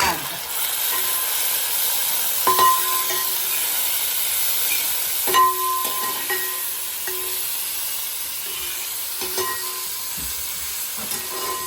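Tomatoes, ginger and garlic sautéing in a pan for a chicken and green peppercorn roast, a soft steady sizzle with a few sharp metallic scrapes and taps from stirring.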